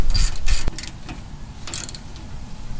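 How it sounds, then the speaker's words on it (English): Two 10 mm bolts being tightened on a Ram 1500 rear brake caliper, with close ratchet clicks in short bursts and light metallic clinks over a quiet workshop background. "we'll put in our two 10 mil bolts and tighten them down"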